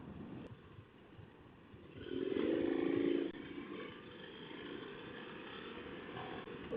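A 2019 KTM 1090 Adventure R motorcycle being ridden, its engine note a steady muffled drone with wind rush that swells briefly into a stronger rev midway, heard from the rider's position with no talking.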